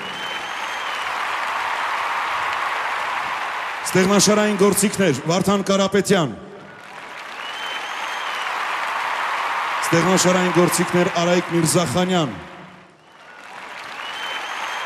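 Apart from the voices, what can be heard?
audience applause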